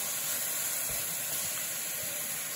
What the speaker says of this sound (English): Sizzling up nice.